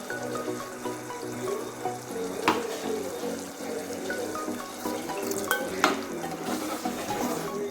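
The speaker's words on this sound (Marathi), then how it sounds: "थोडं पाणी टाकूयात त्यामध्ये" Water splashes into a simmering, sizzling pan of black pea curry while a spoon stirs; a couple of sharp clinks stand out against the steady bubbling.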